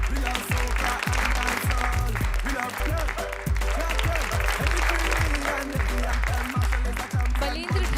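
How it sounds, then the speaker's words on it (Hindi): Continuous applause from the audience at a prize distribution ceremony for an education and welfare trust, dense, energetic clapping sustained throughout with occasional louder thumps, fairly close and steady. "तालियां कंटिन्यू बज रही चाहिए"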